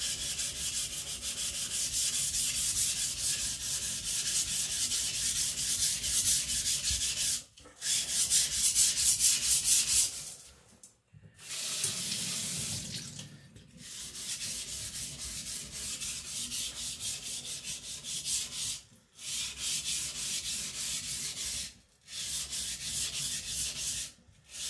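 Steel of a custom Chinese cleaver being sharpened on a stone, a continuous close abrasive rasping in long strokes broken by a few short pauses, with no talking.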